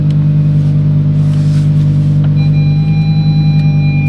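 A Lamborghini idles and creeps in reverse down a steep driveway, its engine a loud, steady low rumble with a deep droning hum and a faint high whine, close and continuous.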